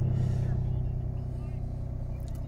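A 2008 Ford Mustang with a V6 and about 270k miles idles just after starting, a steady low rumble with a regular pulsing beat, close and continuous.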